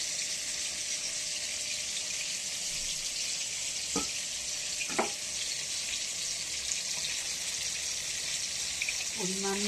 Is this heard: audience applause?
no